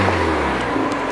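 A Mazda MX-5 engine revs through a newly installed dual exit exhaust with a cut rear bumper. It gives a brief, loud, steady close-up drone.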